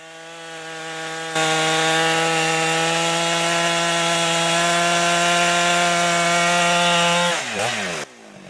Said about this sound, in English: Using a high-powered chainsaw, the logger makes precise horizontal and angled cuts at the base of the tree.